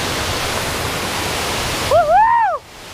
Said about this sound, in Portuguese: Cachoeira linda.